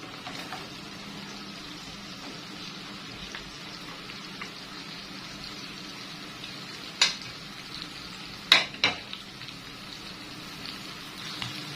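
Generous amount of onions frying in oil in a pan for an Egyptian oxtail tagine, giving a steady, even sizzle throughout with a few sharp crackles and pops near the end.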